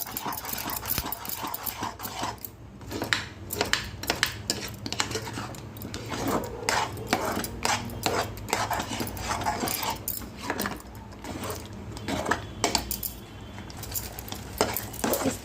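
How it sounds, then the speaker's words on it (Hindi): Gravy for shahi paneer being stirred and roasted in a pan, with steady scraping and clinking of a spoon against metal and a soft sizzle running throughout, close and fairly busy with no talk. "ये ग्रेवी भूनते जाना है।"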